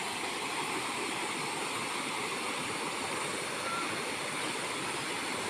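Rushing river water at the meeting point of two rivers, one muddy from rain upstream, forms a steady broadband roar with no pauses, loud and close for the whole stretch.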